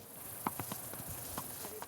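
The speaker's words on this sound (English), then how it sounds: "enjoying evening horseback rides on their beautiful property" Rocky Mountain horses walk on a Montana ranch property during an evening ride, their hooves clip-clopping in an uneven, fairly quiet rhythm with a voice talking over them.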